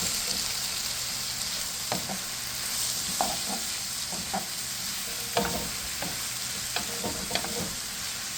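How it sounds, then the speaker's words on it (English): Sweet peppers sizzle and fry in a pan as a utensil stirs them, with scattered scraping and clacking against the pan over a steady frying hiss. "So now I'm adding in my sweet peppers."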